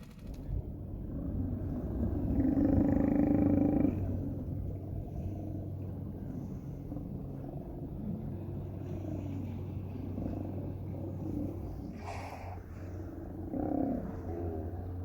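Large animals of around 2,000 pounds on Vancouver Island growl like lions, a deep sustained rumbling that swells loudest early on and then continues as a steady low drone with a few fainter rises.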